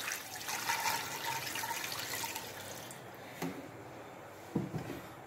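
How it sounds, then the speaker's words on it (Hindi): About three glasses of water pour steadily into a pressure cooker holding frozen beef, with a splashing, gurgling flow that fades out, followed by a couple of soft metallic knocks. "और हम तकरीबन 3 गिलास पानी के डालेंगे।"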